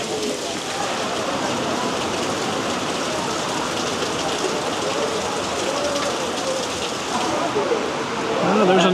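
Heavy rain pours down on Île Royale, Devil's Island, in French Guiana, a loud, dense and continuous hiss of drops on surfaces that swells slightly toward the end.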